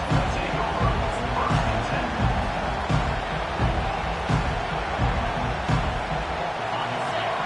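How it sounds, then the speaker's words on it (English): A packed football stadium crowd roars in a dense, continuous wash of noise that holds steady throughout, with a commentator's voice faintly beneath it. "listen to the roar of this crowd"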